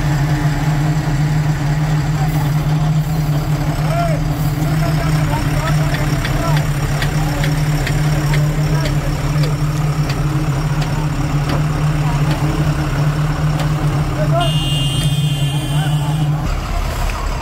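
A concrete truck idles at a toll plaza while unloading paving-quality concrete into a Gomaco 2400 paver, its engine giving a loud, steady low rumble with faint clanking over it.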